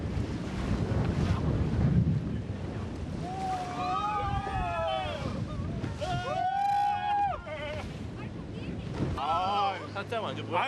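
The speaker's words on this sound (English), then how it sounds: "지금 파도가 잔잔하진 않거든요" Wind buffets the microphone while waves slap around a small boat carrying several people off Malta, with voices and shrill yelps rising over the rough water.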